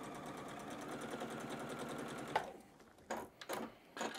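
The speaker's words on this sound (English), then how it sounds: "So I'm gonna drop my presser foot so the needle's right on that line" A sewing machine stitches steadily through a batik quilt block with a fast, even whir for about two seconds, then stops, leaving a few soft handling bumps and clicks.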